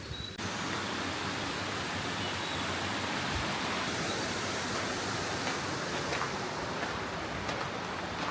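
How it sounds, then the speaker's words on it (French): A rushing river in the Carança gorges makes a loud, continuous roar of turbulent water, close and unbroken, with no voices. "il y a le bruit de la rivière qui est très présent"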